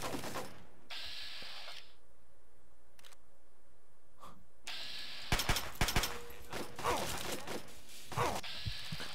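Enemy gunfire in the Fallout 3 video game, sharp cracking shots in bursts, sparse at first then a dense rapid volley in the second half, fairly loud against a quiet background.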